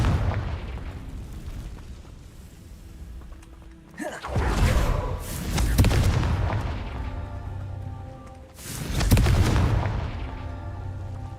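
A Confringo spell in Hogwarts Legacy bursts into two heavy, booming explosions a few seconds apart, each with a deep roaring rumble that slowly fades, set against a quiet ambient bed.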